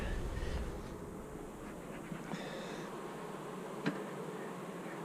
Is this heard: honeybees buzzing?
yes